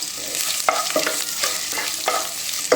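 Garlic frying hard in a pan of hot oil for spicy kaara pori, a dense close sizzle with periodic scraping strokes of a stirring spoon, steady and uninterrupted, no voices.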